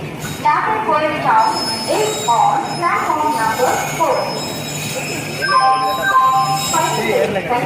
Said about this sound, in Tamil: உள்ள ட்ரெயின் இப்போ தான் ஃபஸ்ட் பிளாட்ஃபார்த்துக்குள்ளே நுழைஞ்சிட்டு இருக்குது.